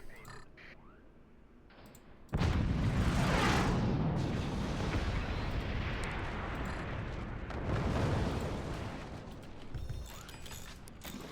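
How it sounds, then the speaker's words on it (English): Howitzer artillery fire in the video game Forts: a sudden heavy blast bursts in, then a loud, sustained roaring rumble with a second swell of impacts, alone without talk. "Howitzers deal a lot of damage."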